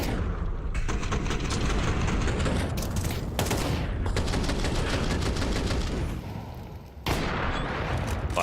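Continuous dense gunfire from a Counter-Strike match, with rapid overlapping shots and bursts throughout, briefly dipping before resuming loudly.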